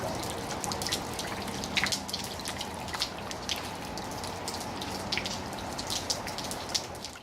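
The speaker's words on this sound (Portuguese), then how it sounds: "a água, em vez de ir direto, né, para o encanamento e dali para o bueiro, ela entra também em alguns baldes" Rainwater dripping from a house's gutters into storage buckets, a steady patter of scattered drops and splashes over a soft wash of falling water, with no voices.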